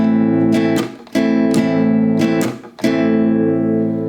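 Acoustic guitar strummed in the chorus rhythm of a song, alternating full down and up strokes with short damped gaps, close and solo with no talking.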